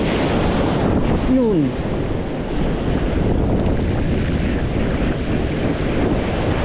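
Heavy ocean surf after a typhoon roars steadily at a coastal fishing spot, a loud continuous wash blended with strong wind buffeting the microphone, and a voice speaks briefly over it.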